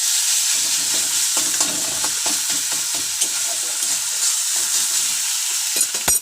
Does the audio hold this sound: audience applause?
no